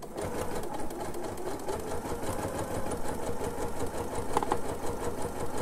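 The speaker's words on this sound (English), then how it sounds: "I'm quite happy with sewing somewhat fast" A sewing machine runs fast and steadily while stitching the seam of a purse. The motor hum and needle clatter go on without a break and stay close and loud, with no talk over them.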